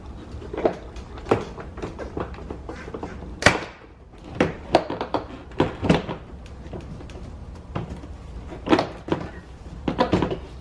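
The front door trim panel of a 2005-2011 Cadillac STS is pried off, with a series of sharp pops and snaps as push pins release, plus scattered thuds and clicks of plastic and handling at close range.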